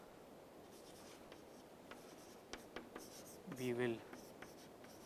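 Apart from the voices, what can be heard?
lecturer writing on the board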